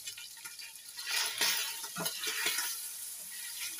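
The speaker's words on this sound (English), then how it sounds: "to our meat, we're going to start adding onions first" Onions going into a pot of boiled, drained beef for a sweet potato beef stew, a close, steady sizzle with stirring and a few light scrapes and clinks of utensil against the pot.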